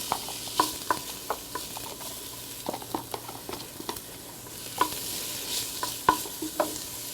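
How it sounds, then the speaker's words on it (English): Half an onion being sautéed in a pan, with soft frying sizzle under repeated clacks of a spoon or spatula stirring and scraping, close up and fairly quiet, no voices. "I'm gonna start by sauteing my ingredients. I got about half an onion."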